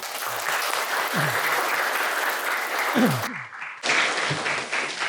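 A crowd of students claps continuously during a high school student council inauguration ceremony, dense steady applause at a moderate level with a short break in clarity partway through.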